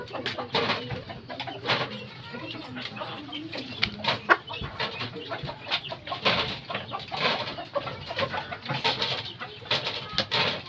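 Talisay gamecocks, fighting roosters kept in cages, cluck and coo in short repeated bursts close by, with occasional voices talking in the background.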